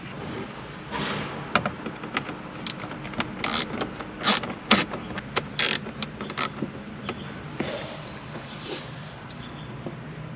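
A ratchet loosens 7mm bolts on the dash of a 2010-11 Camaro SS, giving irregular bursts of sharp metallic clicks over a low background hum, close by with gaps between turns.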